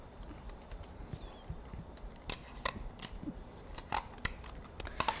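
Scissors snip out a paper craft body part nearby, giving a scattered run of short, faint crisp clicks and cuts over quiet room background.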